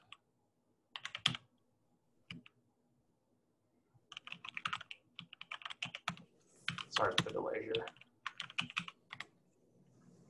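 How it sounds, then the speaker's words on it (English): Bursts of clicky typing on a computer keyboard, close and fairly quiet, coming in short clusters with pauses between them, while a person briefly speaks over the keys. "Nobody likes watching typing"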